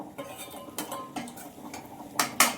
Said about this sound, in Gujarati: મસાલો નાખી દેવાનો અને પછી છે ને હલાવી એને છે ને પાછું થોડીક વાર પકવવા દેવાનું